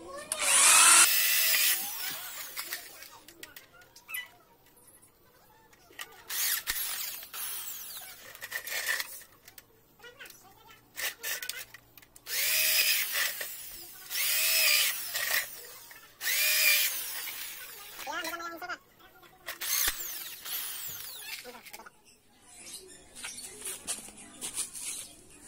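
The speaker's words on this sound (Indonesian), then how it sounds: "bor." A power drill bores through a piece after a wire is straightened, whining in repeated bursts of several seconds each with short pauses between, fairly close and loud.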